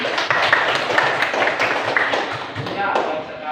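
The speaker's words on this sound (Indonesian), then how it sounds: "Ayo tepuk tangan untuk semua." A class of sixth-grade children at an elementary school claps hands together, a loud patter of many clappers in a classroom that fades slightly toward the end.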